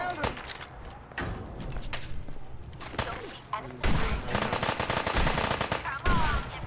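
Automatic and rapid gunfire in the video game Fallout 4 with over 50 mods, bursts and sustained volleys loud and dense, mixed with other game noise and shouting voices.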